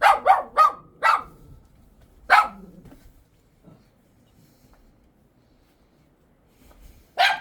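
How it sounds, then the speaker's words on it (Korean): A dog at a remote mountain home barks in a quick burst of four sharp barks, then one more after a pause, and a final bark several seconds later, loud and close with quiet gaps between. "그만, 그만 짖어."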